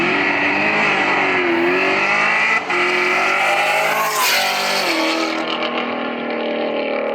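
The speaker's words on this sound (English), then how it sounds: "And then you go partial throttle, and it accelerates like my VW does." A 1000-whp 2017 Chevrolet Camaro ZL1 accelerates at partial throttle, its engine droning loud and close with rising harmonic tones, a brief dip at a gear change, then settling into a steady cruise.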